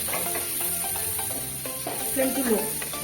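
Butter melting in a pan over a low flame, a steady soft sizzle with faint stirring scrapes running throughout at close range, no talking.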